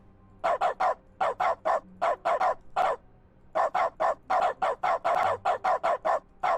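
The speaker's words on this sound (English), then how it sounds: "We wish you a Merry Christmas, Barking Dog Christmas song." Recorded dog barks arranged as "We Wish You a Merry Christmas," short sharp yelps in quick groups with brief pauses, like a novelty song.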